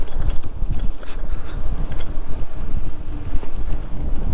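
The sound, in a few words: strong wind blowing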